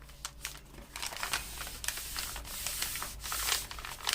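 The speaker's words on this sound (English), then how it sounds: "now I'm going to fold on both of those lines" Paper envelope folded along two measured lines for a junk journal, giving close crisp crinkles and soft rustling scrapes in short uneven bursts.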